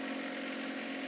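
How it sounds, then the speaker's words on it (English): A John Deere 1025R tractor engine runs at wide open throttle, a steady, loud, close droning hum with no variation through the brief moment. "at wide open throttle with this setup is 1900 RPMs"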